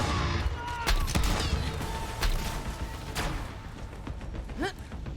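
Shotgun blasts in the video game Borderlands 3, several loud, sharp booms spaced about a second apart over a busy backdrop of game effects and background sound.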